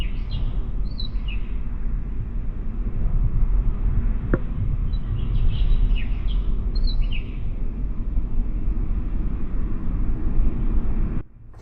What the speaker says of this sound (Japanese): 朝は小鳥のさえずりが聞こえました。